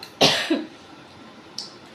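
One sharp, loud cough from a person with an ongoing cough, followed by a smaller second hack and a faint short catch of breath later in an otherwise quiet room.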